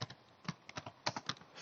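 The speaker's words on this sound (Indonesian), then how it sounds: "Saya ketik di sini." Soft, faint keystrokes tapped on a computer keyboard in an irregular quick rhythm.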